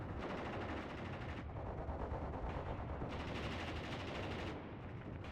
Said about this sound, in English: That machine gunner is, you know, I could hear him firing quite intensely over there